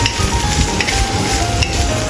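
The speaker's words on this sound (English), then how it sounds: "you want to fry the cabbage over medium heat" Cabbage frying in oil over medium heat, a close, steady sizzle and crackle with faint soft stirring through the short stretch.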